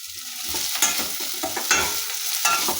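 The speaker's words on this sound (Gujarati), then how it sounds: "આ રીતે હલાવતા રહીશું જેથી નીચે શાક ચોંટી ના જાય" Capsicum and bitter gourd curry fries in a pan and is stirred in a steady rhythm, each scrape of the spoon close and distinct over a soft, continuous sizzle.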